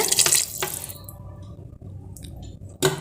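Water pours briefly into a cooking pot for biryani, then drops to a quiet background before a second short splash at the end.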